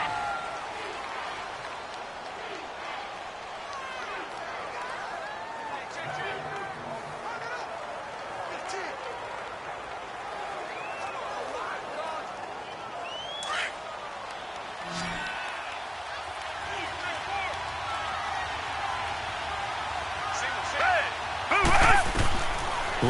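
Stadium crowd noise in Madden 19, Houston Texans vs New England Patriots, as the home crowd roars to disrupt the snap count: a steady, massed roar with occasional thuds and claps, under continuous commentary.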